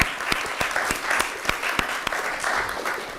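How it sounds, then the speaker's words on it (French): A TV studio audience claps for a guest, a light scattering of distinct hand claps over a steady patter, close and moderately loud for about three seconds. "On l'applaudit très très fort."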